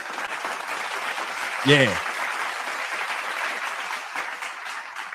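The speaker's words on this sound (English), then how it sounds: "Let me give me a damn round of applause." Steady audience applause fills the clip at a moderate level, a brief spoken word cutting in partway through over the continuous clapping.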